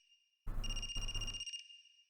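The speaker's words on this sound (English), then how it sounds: "Is that a phone ringing?" A phone rings in the video game AI: The Somnium Files, a single electronic trill with steady high tones that sounds for about a second over a low hum, then fades quickly.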